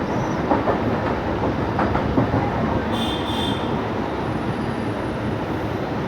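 Pune–Sai Nagar Shirdi Express on its first inaugural run rolling along the rails, a loud steady rumble of wheels and carriages with a brief high metallic squeal midway, no voices.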